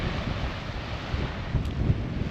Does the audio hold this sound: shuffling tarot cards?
no